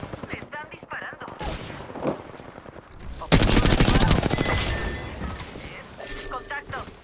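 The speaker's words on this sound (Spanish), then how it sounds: "Me están disparando" Apex Legends gunfire crackles in rapid bursts, growing suddenly louder and denser midway, with sharp shots and game effects and voices chattering throughout.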